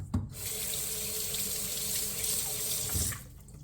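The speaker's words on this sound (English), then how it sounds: "I'm going to rinse my hands" Water runs from a sink tap in a steady splash as hands are rinsed under it, starting after a brief clunk and cutting off near the end.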